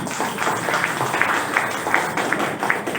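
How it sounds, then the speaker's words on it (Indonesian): Audience at a political party's leadership inauguration ceremony in Depok applauding, a dense, fairly loud patter of many hands clapping throughout, with no voices standing out. "Tepuk tangan dong."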